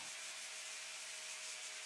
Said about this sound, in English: I think I'm going to sand back the floor and revarnish it again